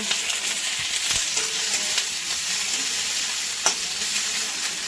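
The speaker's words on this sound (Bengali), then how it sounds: "হালকা ভেজে নিব।" Ground coriander, cumin paste, ginger paste, chili paste and turmeric frying in a kadai give a steady, close hiss of oil with faint stirring clicks scattered through.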